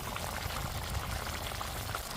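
Squid bubbling in a pot with oil, seasoned with salt, cumin, garlic, ground pepper and curry leaves: a dense, steady, loud boiling and sizzling texture, close by, with no voices.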